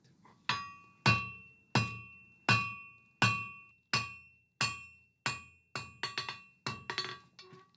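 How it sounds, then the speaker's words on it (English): Metal is hammered on the horn of an anvil while forging a coal rake: about a dozen sharp, ringing blows, evenly spaced at first and then quicker and doubled near the end, each leaving a bright metallic ring. "I'm going to do it on the horn of the anvil to create a gradual isolation rather than sort of like a severe step down"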